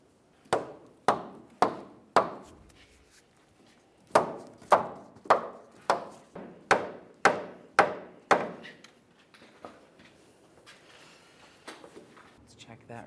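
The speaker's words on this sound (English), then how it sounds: "give it a loving bonk with a rubber mallet" A rubber mallet taps a front lower control arm bushing into place on a 2002-2009 Chevrolet, with sharp, distinct knocks coming in two quick series of about four and eight blows, then a few lighter taps.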